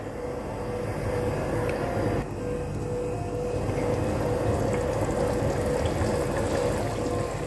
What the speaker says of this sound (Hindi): इसमें अच्छी तरह से उबाल आ गए हैं